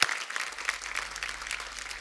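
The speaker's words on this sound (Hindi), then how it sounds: "इतनी ताली बजाने की क्या जरूरत है?" A television comedy show's studio audience applauds, a dense clatter of many hands that is loud at the outset and then settles into steady clapping.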